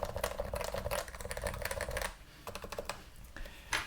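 Someone types quickly on a newly assembled mechanical computer keyboard with URSA keycaps, producing dense bursts of soft, bubbly clacks up close, with a brief pause before the rapid typing resumes.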